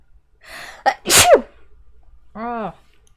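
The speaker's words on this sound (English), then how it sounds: "I have to sneeze." A person sneezes once, close to the microphone: a breathy build-up and a sharp, loud burst, followed by a short spoken word afterward.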